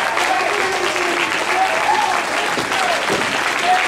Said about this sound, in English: A standing ovation from the crowd here in Bethany, Connecticut.